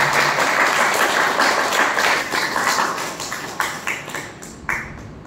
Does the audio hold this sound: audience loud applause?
yes